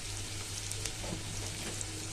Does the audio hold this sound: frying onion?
yes